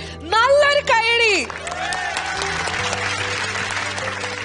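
An audience at a televised singing-competition show breaks into applause, a broad wash of clapping that swells after a brief sung or spoken voice and continues steadily to the end.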